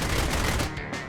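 Cannon fire from a MiG-15 aimed at an F-86 Sabre in a jet dogfight, a brief loud volley of rapid overlapping bursts that cuts off abruptly near the end, with no voices.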